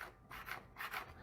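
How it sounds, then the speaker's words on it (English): Light, raspy scraping strokes as a pan shuffles across a glass-top induction grill, in several short bursts that come close together with soft rubbing between them. "this like light shuffling sound over this piece of glass"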